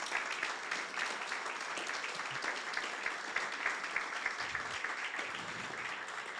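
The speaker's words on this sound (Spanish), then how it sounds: "Porque lo que está diciendo, aplauda, aplauda, aplauda." Church congregation applauding during a sermon, a dense, steady wash of many hands clapping together, sustained and fairly distant, with no voices.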